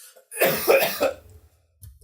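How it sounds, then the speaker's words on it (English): A single cough, a short burst of two or three harsh pulses, loud and close, followed by a brief faint after-sound; no talking. "I was trying to hold that cough while you were talking."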